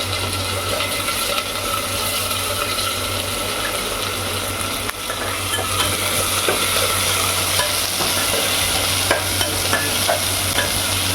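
Onion, garlic and green chili being sautéed in a pan, with a steady sizzle and occasional stirring scrapes that run continuously at moderate loudness and no talking.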